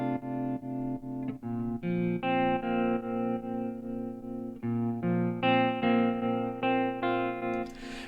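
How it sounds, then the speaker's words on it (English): A sustained, effects-laden synth or guitar tone swells in and out repeatedly as a plugin shapes its volume, each note rising gradually rather than striking at once, heard alone with chorus and distortion coloring. "Let's do a slow fade in."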